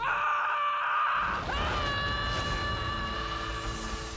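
A high, strained cartoonish scream that sustains, bends sharply upward, then holds a thin piercing tone with a rough edge before fading slightly.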